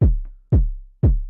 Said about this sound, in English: for the kick, I just layered 2 kicks